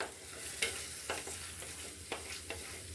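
Curry leaves being stirred as they fry in a pan, a steady crackling sizzle with a handful of brief spoon scrapes spaced through the clip.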